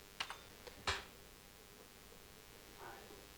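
A few distinct computer keyboard key presses on the I and O keys, close and crisp, separated by short pauses in an otherwise quiet room, while editing in Adobe Premiere.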